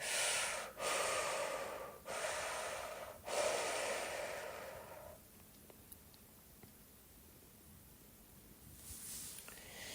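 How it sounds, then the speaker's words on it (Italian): Deep, forceful breaths during a shamanic ritual come in several strong, noisy bursts close to the microphone, separated by short pauses, then fade into quieter breathing with a soft final exhale. "ma respira più forte"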